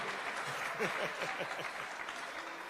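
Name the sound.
audience applause for the presenters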